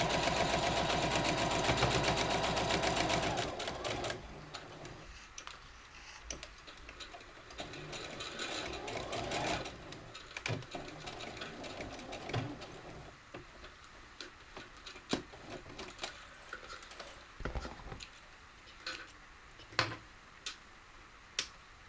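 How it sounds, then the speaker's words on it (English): A sewing machine runs a seam around a triple-layered fabric face mask, opening with a loud, steady mechanical whir for a few seconds, then breaking into quieter ticks, clicks and handling noises nearby. "sew along a seam of just under 1/2 inch all the way around until you get to the other end of the gap"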